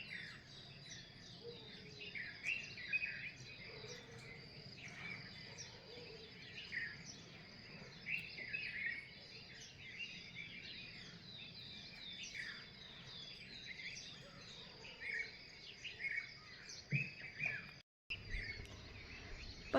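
Morning birds chirp and call repeatedly in the open air, with bright, overlapping tweets at moderate distance and a faint insect hum underneath.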